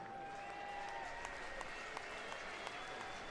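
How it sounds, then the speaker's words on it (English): A baseball crowd at Joker Marchand Stadium during a Tigers spring training game gives faint, distant applause, a scattered clapping patter with a few sharper claps and no clear speech. "Curtis Granderson gets a warm hand from the crowd here at Joker Marchand Stadium"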